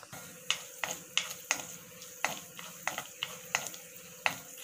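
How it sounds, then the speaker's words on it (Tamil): Cashews frying in hot ghee for a sweet flattened-rice dish, with a steady close sizzle punctuated by a series of sharp scraping stirs roughly every half second. "இதை நல்லா கோல்டன் ப்ரௌன் வர வரைக்கும் கொஞ்சம் நல்லா ஃப்ரை பண்ணிக்கலாம்"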